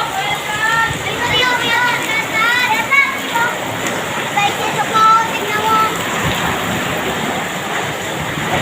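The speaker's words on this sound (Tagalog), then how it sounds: "Lakas ang ulan." Heavy rain pours in a steady, loud wash with gusty wind, while a voice speaks briefly over it and faint chirps come and go in the background.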